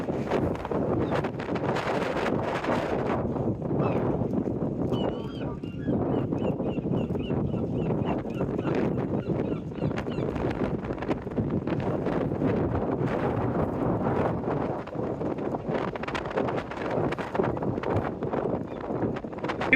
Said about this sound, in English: But yes, a very, very windy back beach.